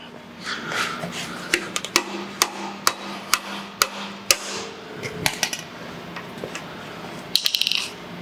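Sharp metallic taps strike a nut threaded onto a Harley axle to bump it out, a dozen or so irregularly spaced clinks close by, ending in a quick rattling cluster.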